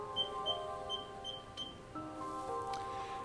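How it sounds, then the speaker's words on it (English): Microwave oven heating food, with a steady hum carrying several short, evenly spaced high beeps and a few tonal chimes near the end; nobody speaks. "I'm just going to put this in the microwave for about a minute or 2."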